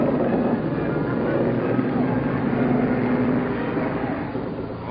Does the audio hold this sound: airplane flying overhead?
yes